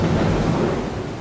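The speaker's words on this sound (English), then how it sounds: "Caught in a storm off the coast of Africa" Thunderstorm at sea off the coast of Africa, a loud, dense rumble of thunder blended with heavy rain and wind, filling a short moment with no voices.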